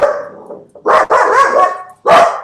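An agitated small dog barks loudly and close by, giving a drawn-out opening bark followed by a burst of three sharp, rough barks separated by brief gaps, with no voices.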